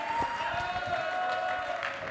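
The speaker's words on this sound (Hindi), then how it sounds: "एक सर के लिए जबरदस्त अप्लॉज हो जाए।" Audience applause for a speaker at a motivational talk in India, a steady wash of many hands clapping at moderate volume, with a sustained tonal hum running underneath.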